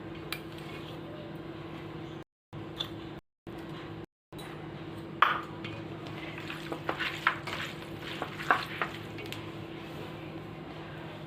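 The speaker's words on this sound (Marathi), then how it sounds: "याला व्यवस्थित असं मिक्स करून घेणार आहोत" Garlic paste and cumin powder being stirred into a spice mixture in a hot pan for a chicken dish, with a soft steady sizzle and scattered scrapes and clinks of the spoon against the pan.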